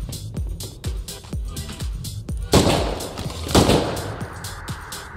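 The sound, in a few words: gunshots at fences in Rust video game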